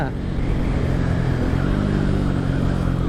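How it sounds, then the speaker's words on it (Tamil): A 2022 Bajaj Pulsar N250 motorcycle idling and revving close by, a loud continuous rumbling engine note holding steady for the whole stretch. "வண்டி சவுண்டு பார்த்தீங்களா"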